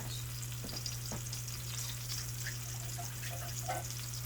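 Cauliflower steaks sizzle steadily in a hot pan, a continuous broadband fry with a low steady hum underneath and a few faint pops and scrapes, close and moderately quiet with no talking.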